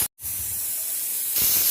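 Pressure cooker whistling on a high flame while cooking egg biryani, a steady steam hiss after a brief silence, rising louder toward the end, with no talk.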